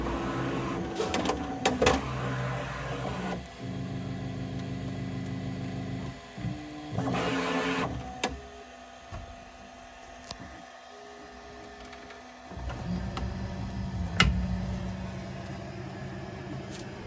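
A 3D printer lays down a 100% infill TPU part, its stepper motors whirring and humming in shifting bursts and pauses, fairly close and alone with no talk.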